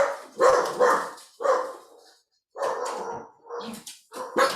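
A dog barks repeatedly in a room, several close, loud bursts in uneven clusters with a short quiet gap midway, no speech over it.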